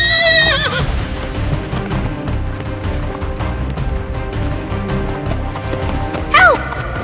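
A horse whinnies loudly at the start and again near the end, with hooves clip-clopping steadily throughout over a busy background; no one speaks.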